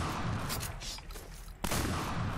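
Gunfire rattles in a video game, fired through a mouse macro, with rapid bursts of shots, a lull, then another burst starting near the end.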